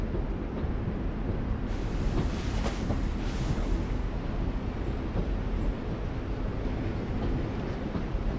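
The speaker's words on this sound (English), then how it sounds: "You always pick the train." A train in The Walking Dead video game gives off a dense, continuous rumbling roar with a brief hissing swell partway through, loud and unbroken from start to end.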